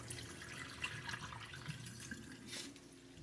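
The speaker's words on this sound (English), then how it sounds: "But that's how I clean my rice." Brown rice being rinsed in water, with a steady running, sloshing wash of water and small splashes throughout, close and continuous, no talking.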